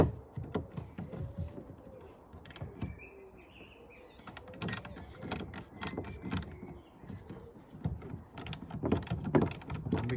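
Bolts being undone by hand with a spanner or ratchet during a makeover of a Mad River Reflection 15 canoe, heard as a steady series of close, sharp metallic clicks and ratcheting taps with no talk.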